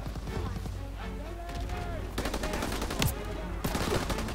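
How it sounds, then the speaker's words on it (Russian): Rapid bursts of gunfire in Call of Duty WW2, with dense automatic rattles and sharp cracks mixed with in-game battle noise, under a player talking. "Блин, кто-то слева стреляет."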